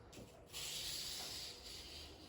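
A knife blade is drawn along sandpaper while being sharpened. It makes a quiet, smooth scraping hiss in one sustained stroke that lasts about a second, and faint room noise sits on either side of it.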